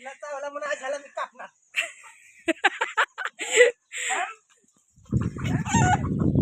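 A rooster clucks in a series of short, sharp bursts close by, following some talking, with a rustling noise at the end.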